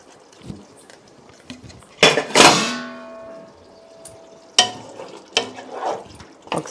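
Biryani masala being stirred in a pot for jackfruit biryani, with a few loud scraping, clattering bursts of spoon against metal amid quieter kitchen shuffling.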